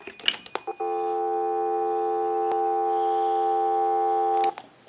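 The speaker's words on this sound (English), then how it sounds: "And we'll give you some dial tone." A steady, loud dial tone comes from a PTT business telephone after a few handset clicks and clatters, then holds for several seconds before ending abruptly with another click.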